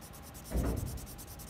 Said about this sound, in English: Couple of layers of that 4B pencil.